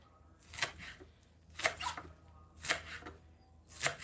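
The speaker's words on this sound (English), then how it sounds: "So I have this green onion here and I'm just going to dice it." Knife dicing green onion on a cutting board in a home kitchen, four quiet bursts of quick chopping taps spaced about a second apart, close up with no talking.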